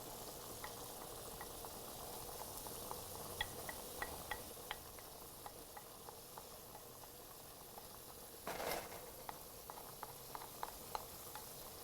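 Onions and ground beef cook quietly in a pan, giving a faint, even bubbling sizzle with scattered small pops and one brief louder burst of crackling midway.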